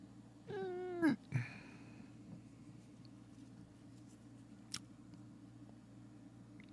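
A cat gives one drawn-out, wavering meow close by, followed by a short second yelp, then near silence with a faint click.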